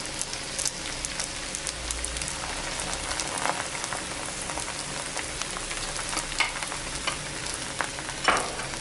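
Egg batter for a spicy egg roll cooking on a hot tawa, giving a steady, even sizzle and fine crackle with a few brief clinks, moderately close and without talk.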